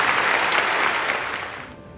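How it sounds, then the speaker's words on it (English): A ceremony audience at West Point gives a dense round of applause. The full, loud clapping holds steady and then tapers off toward the end. "Please give them a round of applause."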